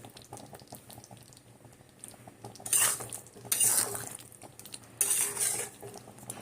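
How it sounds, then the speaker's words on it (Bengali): Mango pickle with spices cooks in a pan, a soft bubbling base broken by three loud bursts of spoon scraping and stirring with metallic clinks. "আমও সেদ্ধ হচ্ছে আর মশলা মাখিয়ে দিলাম"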